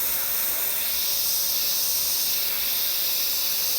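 An airbrush lays a light mist of paint over detail on a Senna F1 car model, a continuous soft, close hiss of air and spray running evenly from start to finish.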